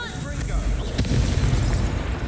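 An Incendio fire spell blast in Hogwarts Legacy, a deep rumbling whoosh with a sharp crackling burst midway, heavy low boom sustained throughout, with speech also present.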